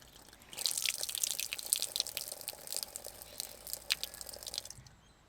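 Garden tap turned on, water rushing and spattering after a dripping-tap repair, starting abruptly, running steadily with a few splashy bursts, then cutting off near the end.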